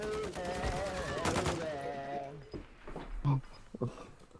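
Rapid gunfire in a multiplayer shooter game, bursts of sharp shots mixed under excited, overlapping voices talking loudly.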